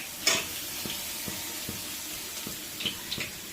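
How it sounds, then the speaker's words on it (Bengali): Steady hiss of small rohu-type fish (chara pona) frying in oil, close by, with occasional light pops and taps over the sizzle. "আর বাকি যে মাছটা রয়েছে সেটাকে আমরা একই প্রসেসে ভেজে নিচ্ছি"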